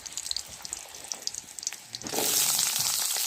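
Green chillies, panch phoron and bay leaves hit hot oil, and after some quiet crackling the pan bursts into a loud, sustained sizzle and hiss that fills the last second or so.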